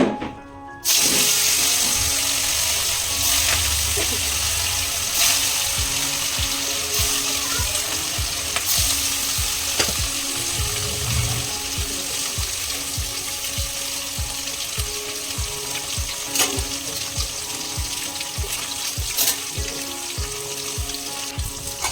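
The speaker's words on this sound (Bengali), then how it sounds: "মাছটা মোটামুটি ভাজা হয়ে গেছে, এবার মাছগুলো তুলে নেব।" Fish sputter loudly in hot oil in a kadai after a brief quiet start, a dense, continuous close sizzle with occasional stirring clicks and no voices.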